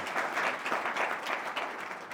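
Steady audience applause at a spiritual talk, a dense wash of many hands clapping continuously at a moderate distance, with no speech over it.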